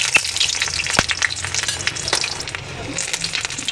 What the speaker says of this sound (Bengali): একটু ধরে সাইডটা ভেজে নিতে হবে।